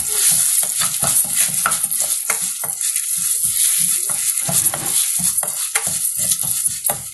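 Ingredients with asafoetida sautéing in a pot, a continuous close sizzle broken by rapid rhythmic scraping and clinking of a spoon stirring, loud and busy with no voices.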